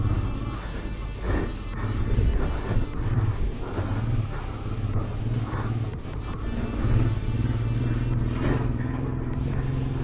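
A motorcycle engine labours and strains continuously while climbing a rough, steep trail on a round-the-world motorcycle trip, a steady close rumble with slight surges and rough knocks from the terrain.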